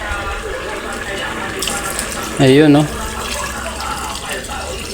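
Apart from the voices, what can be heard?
water being poured into a pot of mung beans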